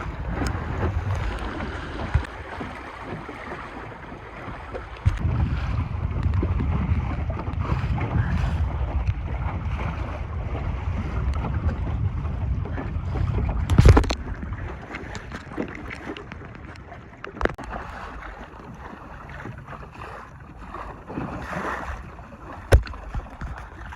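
The beamy sailing dinghy Cormorant moves through water with the tide behind it, a continuous wash and rush under steady wind buffeting the microphone, with a few sharp knocks and splashes breaking through.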